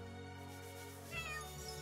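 A cat in the video game Chained Echoes gives a long, drawn-out meow, fairly quiet and alone, rising in pitch toward the end.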